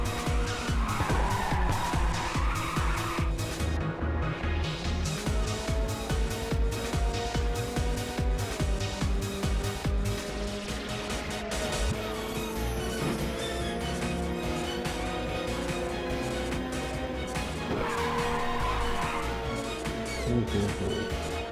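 Racing cars in a PSP video game race roar with high revving engines and repeated tire squeals, layered over constant game music in a dense, unbroken mix.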